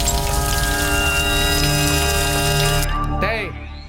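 Water runs steadily from a tap in a continuous loud, even gush, with a musical score sounding over it, until the flow drops away near the end.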